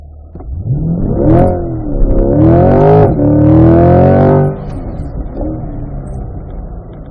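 A Chevrolet C8 Corvette on an autocross course revs hard, its engine note rising and falling through downshifts, loud and close, with no talk over it.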